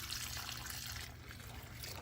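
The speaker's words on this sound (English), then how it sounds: "Let the water overflow." Water overflows and trickles out of a garden plant pot, a faint soft dribble with a low hum underneath.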